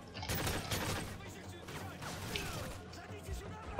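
Gunfire in Call of Duty Modern Warfare 3 SpecOps, a rapid fusillade of shots packed together at the start, then scattered bursts and mechanical clatter continuing close by.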